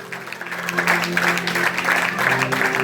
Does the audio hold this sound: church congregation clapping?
yes